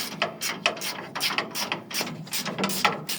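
Wrench ratcheting as the knotter drive is unscrewed on a Wartsila pickup baler, a close, steady run of rapid metallic clicks in short bursts with brief pauses between strokes.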